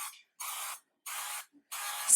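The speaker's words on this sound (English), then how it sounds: "I'm going to spray it down well." Cooking spray aimed onto a reused baking pan in a home kitchen, four separate hissing bursts of roughly a third of a second each with short silent pauses between them, close and fairly loud.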